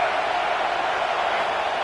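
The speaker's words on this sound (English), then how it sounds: "Here comes the noise from this big crowd in Happy Valley on 3rd down." A large stadium crowd roars on third down in Happy Valley in the NCAA 26 football video game, a steady broad wash of noise held at even loudness throughout, with no talk over it.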